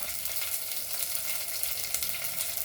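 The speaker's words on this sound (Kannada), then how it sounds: "ಇದೆಲ್ಲದನ್ನು ಎಣ್ಣೆಯಲ್ಲಿ ಚೆನ್ನಾಗಿ ಫ್ರೈ ಮಾಡ್ಕೋಬೇಕು, ಒಗ್ಗರಣೆಗೆ ಚೆನ್ನಾಗಿರುತ್ತೆ." Garlic, ginger and curry leaves fry in hot oil for a tempering, a dense and steady close sizzle that holds at even loudness throughout with no talking.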